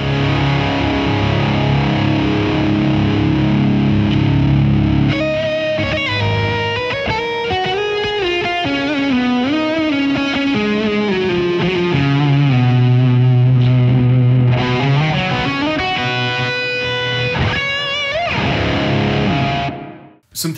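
An electric guitar plays through a Hughes & Kettner Tubemeister Deluxe 40 tube amp, with steady distorted chords and then sustained lead notes, loud and continuous for about twenty seconds with no talking.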